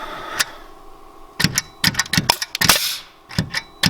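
Max NR83A framing nailer driving nails, rapid sharp clacks and pneumatic bangs in a quick irregular cluster, then a few spaced shots after a pause, loud and close with no talking.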